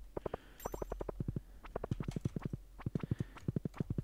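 Horse hooves clip-clopping in Stardew Valley in winter, a quick, brisk run of sharp rhythmic hoof clops at close range, with a brief chime near the start.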